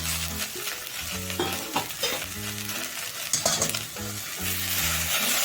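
Mixed vegetables with peanuts and carrot stirred in hot oil for a traditional Bhogi bhaji, a spoon scraping and sizzling busily up close, with a faint melody playing underneath.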